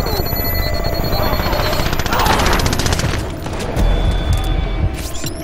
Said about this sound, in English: Deploying flash grenade!